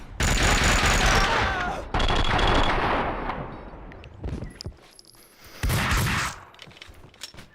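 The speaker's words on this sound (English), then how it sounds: "Oh, who's shooting me?" Gunfire in the video game Max Payne 2: loud automatic bursts in rapid strings, then a pause and scattered single shots before another close burst.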